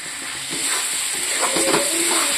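Turmeric and chili powder fry with a little salt in a pan, giving a steady, close sizzle and hiss that brightens slightly as the spices are stirred.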